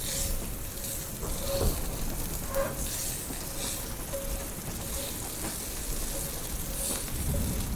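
Bacon frying in a pan on a rainy morning, a constant soft crackle and sizzle with occasional spatters, heard alone and fairly close.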